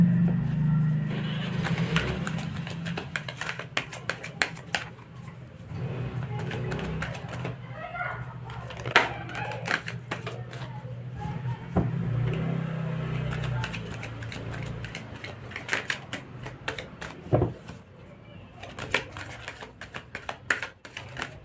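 A deck of Rider-Waite tarot cards is shuffled by hand, giving repeated soft riffling and flicking bursts close up over about twenty seconds, while a low hum runs underneath and some faint speech is heard.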